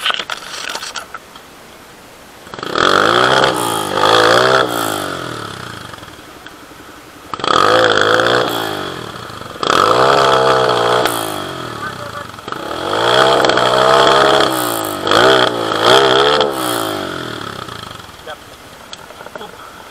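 An enduro motorcycle engine revs hard in repeated bursts, rising and falling in pitch across several loud surges separated by lower idling gaps, with a person speaking at points.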